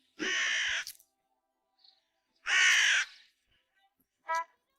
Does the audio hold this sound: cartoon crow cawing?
yes